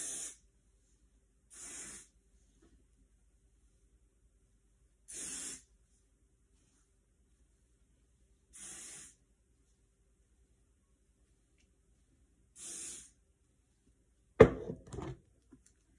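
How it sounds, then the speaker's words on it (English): Several short hissing hairspray sprays, each about a second long, separated by quiet pauses, followed by a brief clatter near the end. "What I have to do is spray some hairspray."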